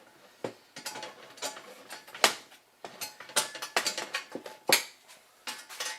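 Bolts being tightened on a sturdy metal band saw table with roughly 3/16-inch steel top, heard as a series of sharp metallic clicks and clinks, close and fairly loud, in irregular bursts with brief pauses and no talking.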